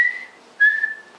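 A person with Bell's palsy whistles two clear, high tones, the first fading out and the second starting louder after a short gap and holding steadily, heard close and alone.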